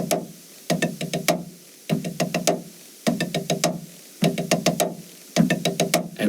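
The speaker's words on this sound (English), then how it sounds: "So a 5-stroke roll, starting with the roll and alternating the leads, should sound like this." Slow five-stroke drum rolls with alternating leads: short clusters of quick bounced strokes, each ending in an accent, repeated in even groups with brief gaps between, close and crisp with no talking.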